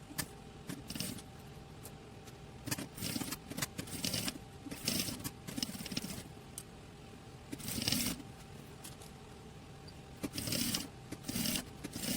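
A sewing machine stitches a straight seam with a half-centimetre margin around fabric for a fitted pant cover or cloth diaper, running in short bursts of rattling stitching separated by pauses and fabric handling, close and moderately loud.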